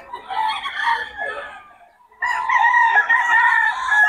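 A bull stag lemon sweater gamefowl rooster crows twice on a farm in the early morning dark: two loud, close, drawn-out calls separated by a short pause.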